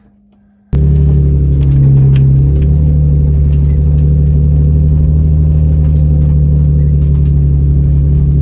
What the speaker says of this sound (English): Cold start, it's loud, and it also runs for about 2 or 3 minutes